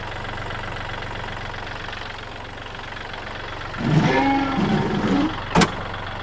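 A 2020 Kubota 40 hp tractor idles steadily nearby with a low, even engine drone, briefly joined by a louder clattering pulse near the end and a sharp click.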